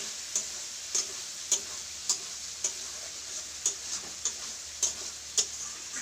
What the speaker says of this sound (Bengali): এবার এটার সঙ্গে ভেজে দিই, ভেজে বলতে মানে কষাবো, এটা মশলাটা দিয়ে একদম কষিয়ে।